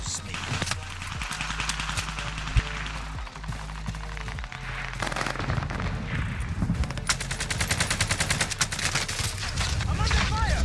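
Gunfire in Call of Duty Warzone: rapid automatic bursts and single shots rattle throughout, growing denser into sustained machine-gun fire toward the end, with voices talking over the battle.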